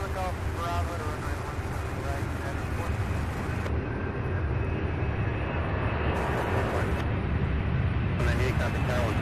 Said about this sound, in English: Look at that. Beautiful A300.